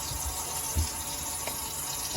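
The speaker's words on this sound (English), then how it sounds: "While I'm letting some water run" Water runs steadily from a kitchen faucet during a garbage disposal replacement, a constant broadband rush with no pauses, close and fairly loud, no voices.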